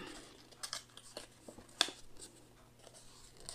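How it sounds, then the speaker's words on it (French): Scissors trimming the corner of a sheet of paper for a handmade album, several quiet, close snips and paper rustles, with one sharper crisp cut near the middle. "On coupe un petit peu ici, l'angle."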